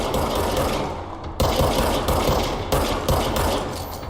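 Loud gunfire in the video game Control, bursts of rapid shots repeating in quick succession, with sharp attacks near 1.4, 2.7 and 3.1 seconds over a dense, continuous roar.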